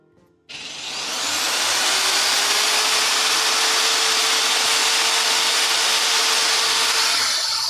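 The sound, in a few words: drilling holes in wood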